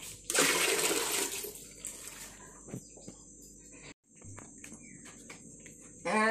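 Homemade butter being washed and lifted in water, giving irregular splashes and sloshes with a short pause and crickets or insects faintly chirping in the background.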